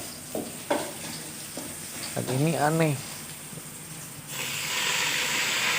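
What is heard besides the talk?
frying fritters in hot oil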